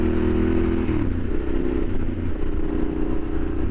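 A Yamaha Super Ténéré 1200 motorcycle engine runs loud and close, its deep throbbing note dropping in pitch after about a second and then holding a steady, rumbling drone with a faint clatter.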